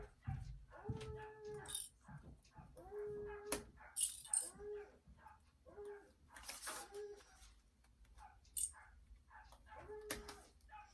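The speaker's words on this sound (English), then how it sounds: "You can probably hear my dog barking at the neighbor's dog outside." A dog barks repeatedly at a neighbouring dog outdoors, sharp barks and whining yelps arriving in irregular bursts at moderate distance, with quieter room sounds between them.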